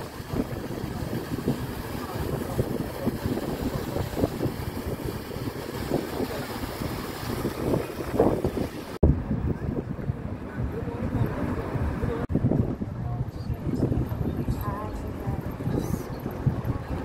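Steady engine drone and rushing water of a small Philippine bangka boat under way, with wind buffeting the microphone throughout.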